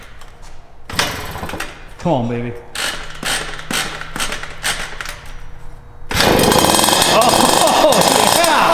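Yamaha YXZ engine fitted with Italian carburetors cranking with a starter whir, then catching and roaring loudly into a rough, revving idle, with excited voices talking over the cranking.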